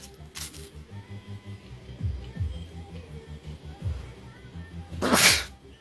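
A sharp sneeze bursts out near the end after a smaller sniff-like burst early on, over low background murmuring and soft shuffling.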